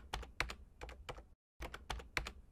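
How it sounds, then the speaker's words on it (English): Quick, crisp keystrokes are typed on a computer keyboard at close range. A short pause breaks the two bursts of typing, and the sound is quiet and clear. "Let's just type Show Sources."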